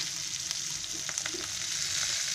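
A whole mackerel coated in semolina fries in a pan over low gas, giving a steady, soft sizzle with small crackles and pops throughout.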